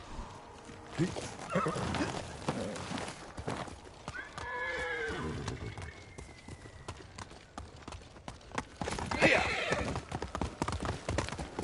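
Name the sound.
horse galloping in a video game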